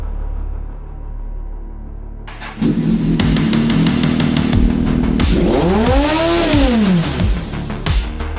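Kawasaki Z900 motorcycle out on a ride, engine and exhaust loud and close: a sharp blip, steady idle-like burble, then a couple of rising and falling revs as the bike accelerates and shifts, with no talk.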